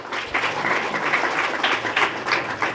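An audience claps together at a Women's Day speech, giving a dense, steady patter of applause with a few louder swells and no talking.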